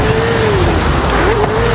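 A Ferrari in Forza Horizon 5 is driven through rain, its engine giving a loud, continuous drone with a slight pitch wobble, close and steady, with no voices over it.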